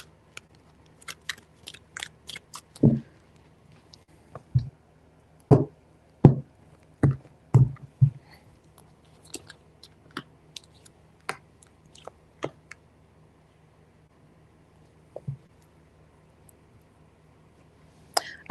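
Tarot cards are shuffled in a quiet room, heard as a string of sharp, dry taps and soft slaps in irregular clusters, loud up close and alone.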